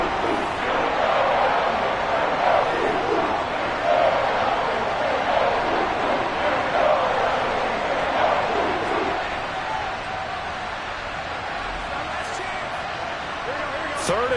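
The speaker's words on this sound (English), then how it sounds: "this crowd urging on their defense. They're up and making noise" A football stadium crowd roars and rumbles steadily as fans stand and make noise for their defense late in the game, a dense wash of sound under a play-by-play announcer's voice.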